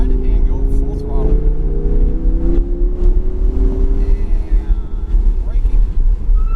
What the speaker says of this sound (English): once we get around the green cone, we'll get to the right side and go full throttle